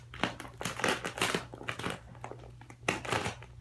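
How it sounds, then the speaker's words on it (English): Polycro plastic film crinkles and crackles close by as it is snipped and handled, with irregular rustling bursts and no speech. "Let's see if I snip it a little."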